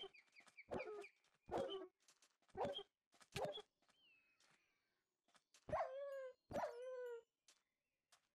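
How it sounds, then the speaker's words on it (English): Dogs bark in the Minecraft Better Minecraft PLUS modpack, giving a string of short, separate barks and yelps, fairly soft and spaced out, with no talk. "There's more of those dogs."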